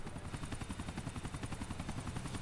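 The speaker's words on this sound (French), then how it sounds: "Je dois suivre un hélico." Helicopter in the video game GTA 4 flies close by, its rotor producing a loud, fast, steady chopping pulse throughout.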